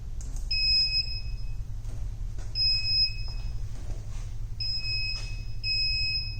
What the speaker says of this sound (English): after the double beep just start the machine.